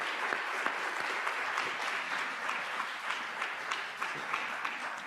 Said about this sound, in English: let's please all give her a warm round of applause.